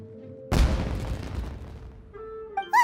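Fireworks going off in a game scene: one sudden loud boom followed by a long crackling, rumbling decay, then brief tonal sound effects near the end.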